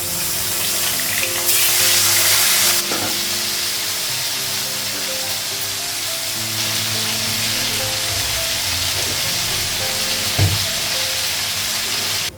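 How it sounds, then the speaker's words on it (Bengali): Fish frying in a pan gives a steady, close, hissing sizzle that swells and eases in patches, with a few brief clinks and a low tonal hum underneath and no talking. "মাছগুলো সব ভাজা হয়ে গেছে, অনেকটা টাইম লাগলো মাছ ভাজতে।"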